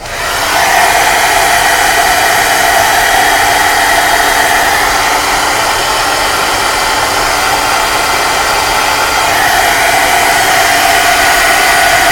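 A handheld dryer blows a steady, loud whoosh over freshly spritzed artwork. It runs continuously and evenly for about twelve seconds with no pauses.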